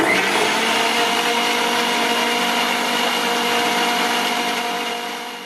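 An electric blender whirs steadily, blending peeled orange pieces with water in a blender jar, a loud continuous motor drone that tapers slightly at the end with no talking.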